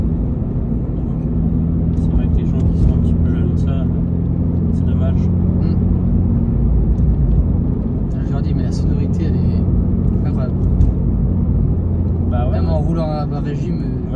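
A Porsche 996 Turbo engine droning steadily at low revs, under 2000 rpm, while the car drives along, a deep constant rumble heard from inside the cabin beneath ongoing conversation.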